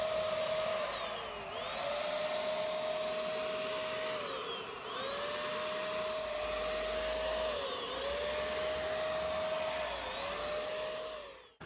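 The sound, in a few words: spraying clear polyurethane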